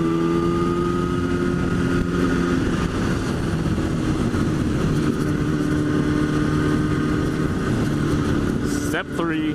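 A motorcycle engine drones loudly and steadily while riding, a continuous low rumble with wind noise throughout.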